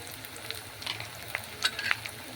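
Chilli, cumin powder and salt stirred and fried in a pan for a Bengali chicken curry with potatoes, giving a low steady sizzle broken by a few soft scraping clicks from the spoon.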